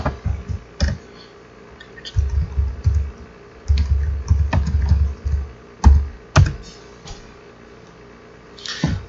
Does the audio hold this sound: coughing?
no